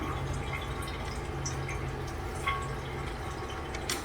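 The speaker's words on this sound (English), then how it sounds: "let it drain. We're gonna drain most of it, then we're gonna put the oil drain plug back." Engine oil drains from the drain plug opening of a Chevrolet Malibu, a soft continuous liquid trickle and dripping close by, with a few faint clicks and no talking.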